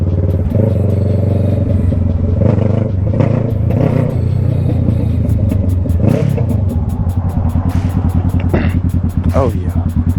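A 2020 Kawasaki Z650 fitted with a Hindle full exhaust idles with a deep, loud rumble, then blips the throttle in a few revs with crackling pops, while people talk nearby.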